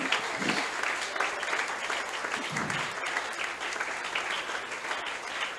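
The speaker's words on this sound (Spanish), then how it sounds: "Guarde ese aplauso al Señor" A church congregation applauds during a Spanish-language praise and worship service, steady dense clapping filling the whole stretch at an even level, with a few voices faintly mixed in.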